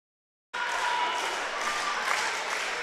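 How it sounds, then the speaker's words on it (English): Crowds at a high school volleyball district final between Ayersville and Hilltop burst into steady applause and cheering after a moment of silence, a dense, sustained roar of clapping in a gym. "Both crowds getting into it."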